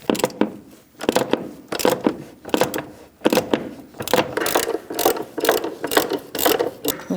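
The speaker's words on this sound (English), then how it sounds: "We're going to use a 16mm socket and remove these 3 bolts" A hand ratchet fitted with a 16mm socket clicks rapidly in repeated bursts while loosening motor mount bolts on a 2000-2006 Mini Cooper 1.6L four-cylinder, close and fairly loud with short pauses between strokes.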